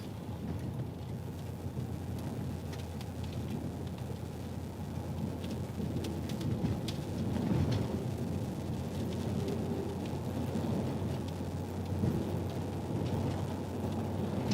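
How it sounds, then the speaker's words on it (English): Steady rain falls during a severe storm in southeast Iowa, a constant hiss throughout, with a low, distant rumble of thunder building partway through. "Hear the thunder."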